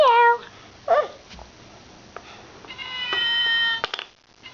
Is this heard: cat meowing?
yes